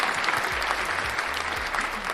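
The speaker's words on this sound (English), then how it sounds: "I think we should give you a round of applause" Steady applause from a studio group on a talk show, dense continuous clapping for the co-host with faint low voices murmuring underneath throughout.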